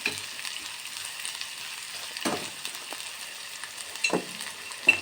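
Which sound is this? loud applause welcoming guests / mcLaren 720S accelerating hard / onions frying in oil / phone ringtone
onions frying in oil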